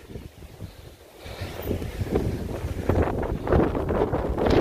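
Strong, bitterly cold wind buffets the microphone outdoors, a rough low roar that starts moderate and builds to loud, sustained gusts.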